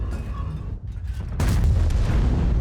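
A tank shell hit in World of Tanks on an IS-7 heavy tank, a sudden heavy boom that cuts in partway and leaves a loud rumbling roar behind it.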